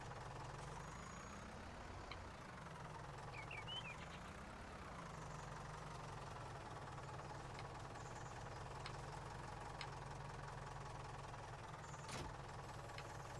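A steady rumbling tractor engine in the video game Farming Simulator 19 idles and revs slightly, continuous and close, with occasional small clicks and knocks.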